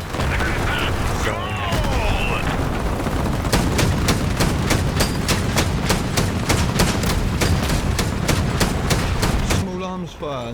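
Small arms gunfire in a free-to-play online shooter game, rapid bursts of shots cracking in a steady stream over rumbling battle noise, with a voice speaking briefly at the start and end.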